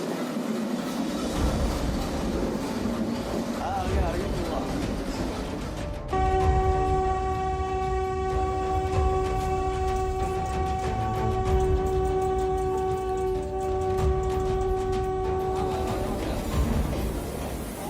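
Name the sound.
train passing and sounding its horn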